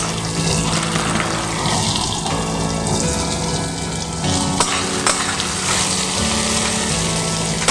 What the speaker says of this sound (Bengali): পেঁয়াজটাকেও একটু হালকা লাল লাল করে আমি ভেজে নেব